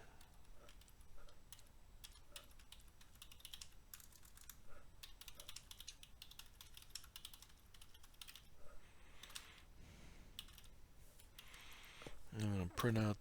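Steady typing of Fortran code on a computer keyboard, quick light clicks in irregular bursts throughout, fairly faint and close, with someone talking quietly over it.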